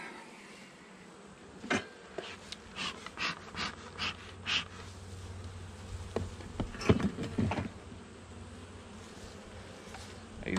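Honey bees hum and buzz close by during a hive inspection, a soft steady drone broken by several louder passing buzzes and faint handling noises.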